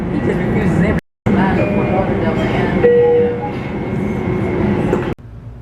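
Train at a suburban Long Island station in Westbury, a steady rumbling rail and carriage noise with a brief cut near the start and a tonal whine midway, close and loud, with people talking over it.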